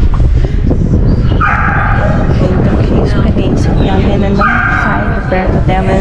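A dog barks and yips in short bursts while people talk loudly close by, the canine sounds mixed in under the busy voices.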